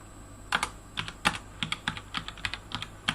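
Keys clacking on a computer keyboard while a Bash script is typed, a quick irregular run of close, crisp taps in small bursts with short pauses, no voices.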